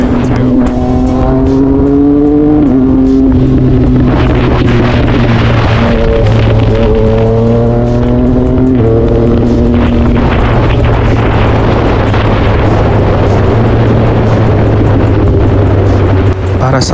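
A Yamaha MT-09 motorcycle engine warming up, loud and close, with a steady idle that rises in repeated revs and settles back, running throughout.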